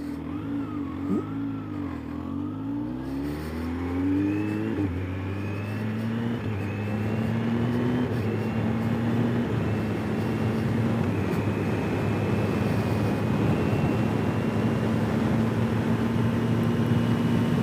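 A motorcycle rides along a road, its engine note rising as it accelerates through the gears, then settling into a steady drone with wind noise close to the rider.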